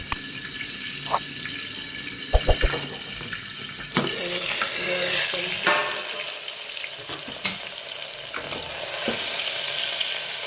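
Mustard seeds, cumin and asafoetida tempering in about two ladles of hot oil inside a pressure cooker, with a few sharp clacks and crackles early on giving way to a steady, close, loud sizzle with scattered pops.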